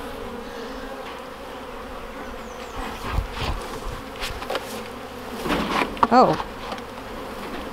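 Honey bees buzz in a dense, continuous drone at a newly brought home hive, close by, while a few people exchange brief remarks over the swarm.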